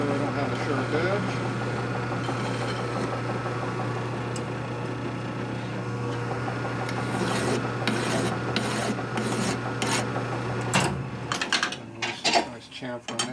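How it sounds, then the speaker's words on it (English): A hand file rasps a chamfer onto the edge of a steel M8 cylinder stud bolt, with steady rubbing strokes that turn into sharper, distinct strokes near the end, close and fairly loud over a constant low machine hum. "Chamfer on the edge there so I don't have a sharp edge."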